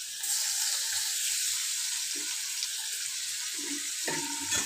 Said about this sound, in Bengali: এবার এগুলো আমি এই তেল মাখনের ওপর দিয়ে দিচ্ছি